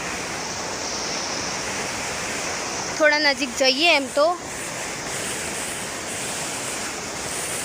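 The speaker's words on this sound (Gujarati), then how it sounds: "અહીંયા આ પાણી કેવો ધોધ પણ સંભળાય છે" Water rushes over a small waterfall at a village pond, a steady broad roar throughout, while a person briefly speaks over it midway.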